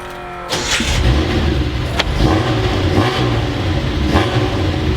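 A tuned Nissan Skyline Hakosuka engine on a test drive, starting after a brief quiet moment and then revving and pulling with a loud, close, rising and falling note throughout.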